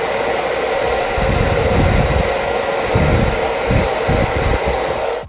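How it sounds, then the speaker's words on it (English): A hair dryer on its cold setting blows steadily and loudly, with a constant whirring rush that pulses slightly as it moves, then cuts off at the end. "Just gonna hit this with a little bit with a cold hairdryer."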